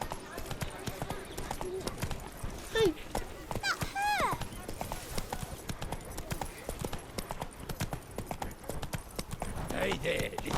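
Hooves of Roach, a horse in The Witcher 3, clip-clop in a quick, steady trotting rhythm throughout, with brief voices and a faint whinny-like call over the hoofbeats.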